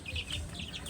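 Breeder chickens cluck in a pen, with short bursts of clucking close by over a low background murmur.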